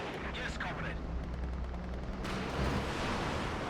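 Artillery barrage in a real-time strategy game, a rumbling run of booming impacts and crackling blasts that carries on under a commentator's voice.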